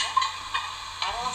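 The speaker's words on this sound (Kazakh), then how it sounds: "Араластырамыз." Diced potatoes being stirred as they fry in a pan for a vegetable ragout, a steady sizzle with a few soft scraping strokes of the utensil, close and alone.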